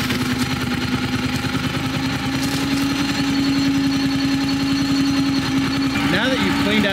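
A FINN T60/T75 hydroseeder engine running at raised throttle to build pump pressure during hose cleaning, a loud continuous rumbling drone with steady vibration, a voice briefly audible near the end.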